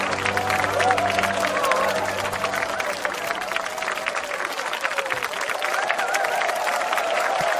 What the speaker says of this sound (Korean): 다시 한번 박수 뜨겁게 쳐주세요